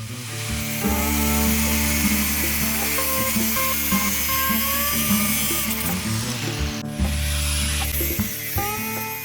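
A power tool cuts small metal pieces at a blacksmithing school, giving a steady mechanical whine with a humming drone and brief pauses.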